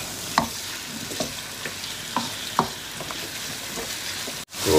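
Chicken jalfrezi frying over high heat in a Pakistani-style dish, a steady close sizzle broken by several scraping stirs about once a second, with no talking.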